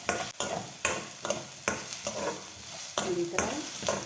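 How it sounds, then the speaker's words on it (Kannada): Ridge gourd frying in oil in a pan, a sizzle punctuated by regular sharp spatula scrapes roughly every half second as it is stirred, close and clear. "ಇದರಲ್ಲಿ ಸ್ವಲ್ಪ ಫ್ರೈ ಮಾಡ್ಕೊಳ್ಳೋಣ ಎಣ್ಣೆಯಲ್ಲಿ."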